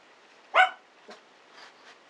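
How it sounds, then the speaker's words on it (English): Several dogs bark in a home, heard from another room: one sharp, fairly loud bark, then a shorter yip and a couple of fainter, more distant barks spaced out over a couple of seconds. "There's my dogs barking again."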